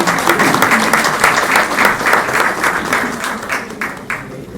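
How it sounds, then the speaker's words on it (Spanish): An audience at a Lima gathering claps in a burst of applause, fairly close and steady at first, then thinning toward the end, with a voice faintly present underneath. "un aplauso para nuestra hermana"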